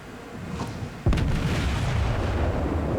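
A battleship's guns fire in a naval combat video game: a sudden heavy boom about a second in, followed by a sustained rumbling roar of the salvo, with quieter ambient game noise before it and no talk.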